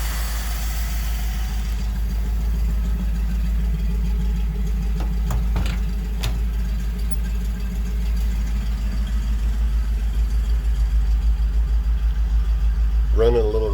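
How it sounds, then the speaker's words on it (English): A 1958 Dodge Power Wagon W200 3/4-ton truck engine runs steadily with a deep, rough idle-like drone throughout, hesitating under throttle and seemingly running a little rich, with a brief rise near the end. "I'm surprised there's the hesitation on the full throttle."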